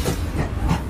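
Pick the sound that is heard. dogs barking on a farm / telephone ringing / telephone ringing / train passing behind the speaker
train passing behind the speaker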